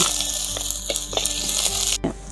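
Onions and two green chillies sizzle in a clay pot for Kerala-style fish curry, a loud, close, steady frying hiss with a few stirring scrapes and a brief clink near the end.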